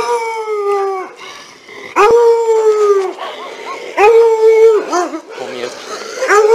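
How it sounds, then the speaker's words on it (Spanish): Several dogs howl at night in long, rising and falling wails that overlap and repeat, loud and close, with a few short yips between them. "Perros."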